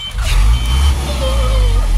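A fire truck sounds its reversing beeps at a fire scene, a steady electronic tone pulsing over engine rumble, fairly close, with voices chattering in the background.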